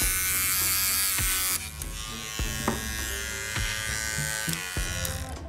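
A small electric clipper motor hums steadily and loudly up close, with a few sharp clicks and knocks from handling.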